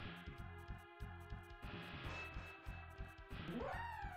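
A dog enemy in the Mega Man X video game barks in a quick string of sharp, rhythmic yips over game music, ending in a rising whine-like sweep.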